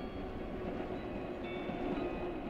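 A passenger train rolls along rails in the Siberian taiga near the Lena River, a steady, distant rumble with faint wheel clatter running continuously and fairly quiet.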